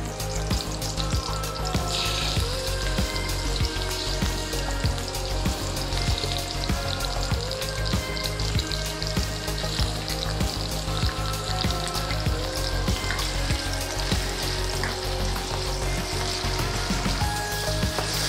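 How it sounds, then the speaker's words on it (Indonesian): Sliced beef sizzles and fries in a hot pan while sukiyaki is cooked, a loud, steady, continuous crackle with fine popping throughout, no voices over it. "lalu kita masukin daging yang tadi sudah dipotong-potong"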